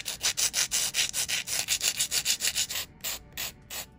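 Quick, rhythmic scraping strokes of an electric file shaping acrylic nail tips, about four strokes a second, close up and steady, then slowing near the end.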